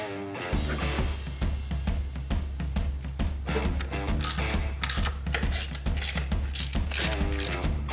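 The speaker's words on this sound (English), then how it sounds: "I like to hold the ratchet at the head of the ratchet here so I can't put too much torque." A hand ratchet clicks steadily and rapidly close by as new valve cover bolts are snugged onto an 80 Series Land Cruiser engine, with a continuous low hum underneath.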